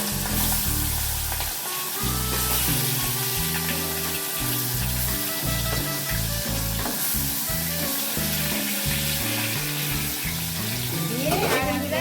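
Fresh Ganges aar fish is laid piece by piece into hot oil, making a loud, unbroken sizzle that runs the whole time, with a low tonal backing underneath.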